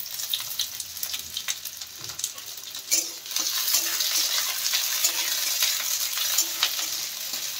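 Cubed onions drop into a hot pan and fry, the hiss swelling suddenly about three seconds in and then holding a loud, steady crackling sizzle with a few stirring bumps.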